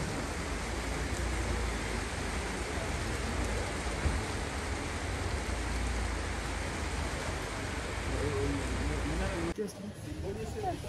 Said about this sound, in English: it's raining. Like, it's pouring right now.